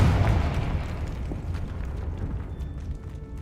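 A loud, booming Confringo spell explosion in Hogwarts Legacy on PS5 strikes heavily, then decays into a long rumbling tail with scattered debris crackle and no talking.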